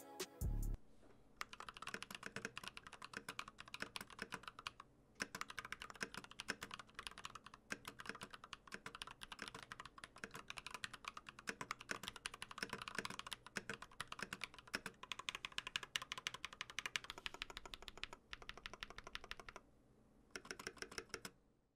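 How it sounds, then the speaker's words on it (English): Continuous typing on a Glorious GMMK Pro mechanical keyboard with Glorious Panda switches and PBT keycaps, rapid close-up clacks in an uneven stream with a couple of brief pauses, no talking. "here is a quick sound test of the Glorious GMMK Pro with the Glorious Pandas"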